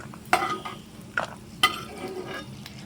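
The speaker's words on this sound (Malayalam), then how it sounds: "നെയ്യ് നല്ല മെൽറ്റായി വരുന്നുണ്ട്. അതിലേക്ക് അണ്ടിപ്പരിപ്പ് ചേർക്കാം." Cashew nuts stirred in hot melted ghee in a pan for jackfruit halwa, giving a soft steady sizzle broken by three sharp scraping clinks of the spoon, close and alone.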